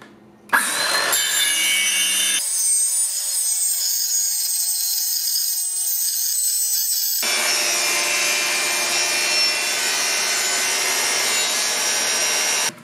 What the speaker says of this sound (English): I started cutting out the pieces and used tape along the edges so that I wouldn't get splintering.